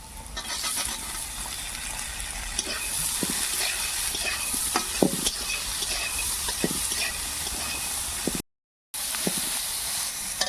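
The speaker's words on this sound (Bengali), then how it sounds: "আগে থেকে ছাড়িয়ে রাখা মটরশুঁটি দিয়ে দেবো।" Shelled peas tossed into a hot frying pan for a milk paneer rice dish, giving a steady close sizzle with scattered clicks of stirring and a brief silent gap near the end.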